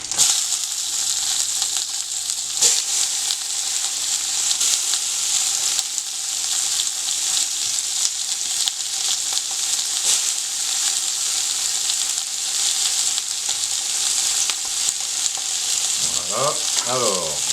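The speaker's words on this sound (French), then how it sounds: "alors on va faire dorer les oignons" Onions browning over very high heat in a pan for veal osso buco, a loud steady sizzle and crackle running continuously, with a brief burst of stirring and scraping near the end.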